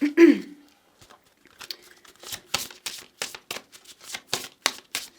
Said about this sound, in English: we're going to start with taking out 5 oracle cards together